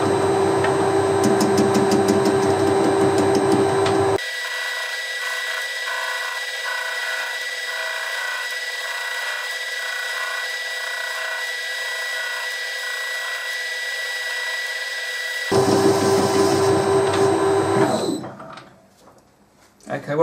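A metal workpiece is machined on a lathe in an interrupted cut, giving a steady mechanical whine with a rhythmic, pulsing chatter; someone talks over the start and the end before the machine winds down.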